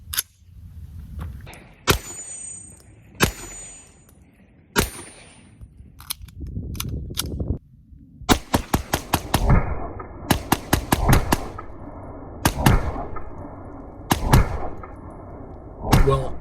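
An Atlas Hyperion competition pistol fires at an outdoor range: sharp, loud single shots early, then quick strings of rapid shots with short gaps, amid faint background noise and handling sounds.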